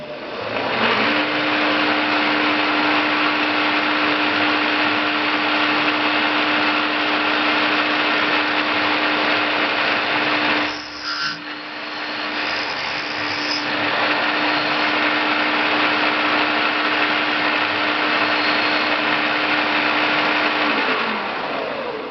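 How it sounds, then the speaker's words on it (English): A steady, loud high-pitched drill whines continuously while drilling a hole in metal, with a brief dip partway through before the motor resumes its sustained grinding hum. "First you drill the initial hole."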